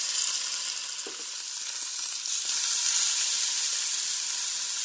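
Meat browns in a pot, giving a steady close hiss and sizzle that swells a little louder partway through, with no talking.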